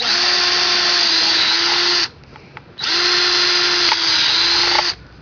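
A loud, high-pitched power drill whines steadily drilling a hole in the bottom of a plastic pot, stops briefly for about half a second, then whirs again for two more seconds before cutting off.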